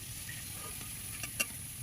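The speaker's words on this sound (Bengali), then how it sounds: "এবার আমি মশলাটা কষিয়ে নেব।" Spice masala frying in a pan with little oil for a meat curry, a brief soft steady sizzle with a couple of faint stirring clicks near the end.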